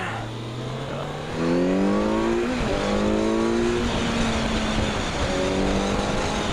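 A Kawasaki Z900 four-cylinder motorcycle accelerates hard on the road, its engine note climbing through several gears in rising sweeps with brief dips at each shift, loud and close over steady wind noise.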